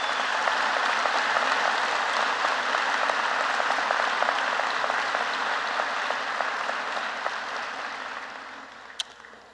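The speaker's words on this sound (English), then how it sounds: "Let's give them a round of applause." Graduation ceremony crowd applauds educators in a large venue, a broad, sustained roar of many hands that gradually tapers toward the end, with a sharp click near the close.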